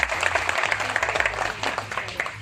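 An audience applauds at a Chandigarh police event honouring Corona warriors, with dense clapping that rises and falls over a couple of seconds while a low hum and some voices sit beneath it.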